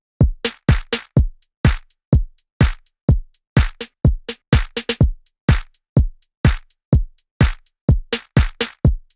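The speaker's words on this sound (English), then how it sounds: "I add in these drums" Close, punchy drum track from a song, a steady, evenly spaced kick-and-snare pattern with crisp hi-hat ticks, playing alone without vocals or other instruments.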